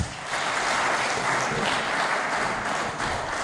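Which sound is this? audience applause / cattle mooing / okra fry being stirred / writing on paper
audience applause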